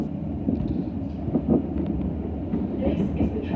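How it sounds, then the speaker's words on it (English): A London Overground train runs between stations on the line toward Cheshunt via Seven Sisters, giving a steady low rumble with faint rattles and clanks inside the carriage. "This is the train to Cheshunt via Seven Sisters."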